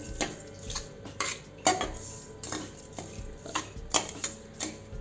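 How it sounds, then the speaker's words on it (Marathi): Spoiled milk and sugar being stirred in a pan on low heat for kalakand, with repeated metallic spoon scrapes and clinks at an irregular rhythm over a faint sizzle, close with no talk. "यात खराब दूध घालू यात दोन चमच साखर घालू कमी गॅसवर चांगल्याने फिरवून घेऊ"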